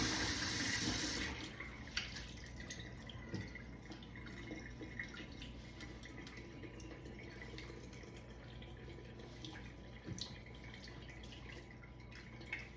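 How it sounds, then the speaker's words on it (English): Rice is washed in water in a kitchen sink, with steady sloshing and running water plus occasional drips and splashes. No one speaks. "you want to wash your rice until you get back a clear water on that"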